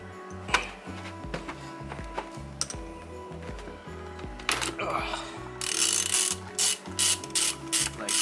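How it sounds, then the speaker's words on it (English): A ratchet loosens the steering wheel bolt during a MOMO steering wheel install, sounding a close, loud run of rhythmic clicking strokes, followed by harsher bursts of ratcheting toward the end. "gotta break this bolt."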